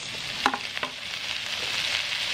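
Tomatoes sautéing in a hot pan for Filipino pinakbet, giving a steady broad sizzle with a couple of brief stir clatters early on, close and alone with no talk.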